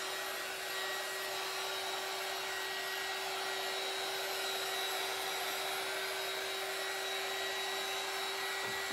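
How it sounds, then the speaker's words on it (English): A small handheld dryer blows on a freshly painted table leg, giving a steady, even whirring hiss that runs unbroken for the whole stretch. "I'm going to go ahead and kind of hit it again with this little, my little dryer here"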